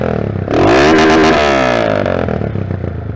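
Motorcycle with a modified sport exhaust pipe, revved hard close up into a loud rasping roar that climbs, holds, then drops back to a rough, throbbing idle.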